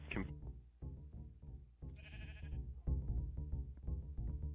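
Minecraft sheep bleat repeatedly in quick succession, several overlapping baas in a steady rhythm, close and fairly clear with no talking.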